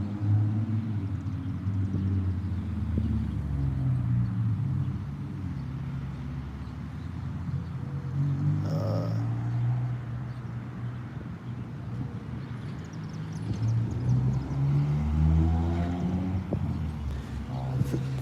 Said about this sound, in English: That car is making an engine sound with those cars driving through.